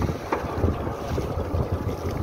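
A motor boat engine runs slowly as the boat edges toward a fishing net near the Pakhiralay forest, a steady low rumble mixed with wind buffeting the microphone and water sounds, continuous and fairly close.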